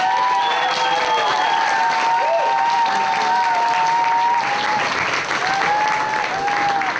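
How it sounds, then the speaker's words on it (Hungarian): A crowd applauds and cheers at a chili festival award ceremony in Solymár, steady loud clapping throughout with a sustained tonal hum and music-like tones running beneath it. "Tapsoljuk meg, kérem!"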